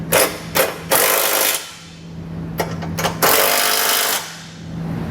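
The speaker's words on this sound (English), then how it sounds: "you can come back with a 19mm or a 3/4 inch socket and snug it down." Bursts of a power tool driving a 19mm socket snug trailer hitch hardware on a 2020 Chevrolet Equinox, loud and close, with several short whirring runs separated by pauses.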